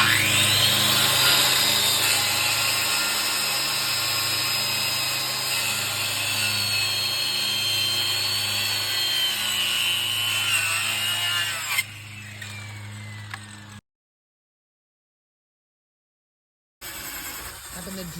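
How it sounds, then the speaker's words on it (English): A power drill whines steadily and loudly for several seconds as it bores through wooden garden bed boards, then stops; after a brief silence, faint noise returns. "I'm going to drill the holes through to connect the boards with rebar to secure it."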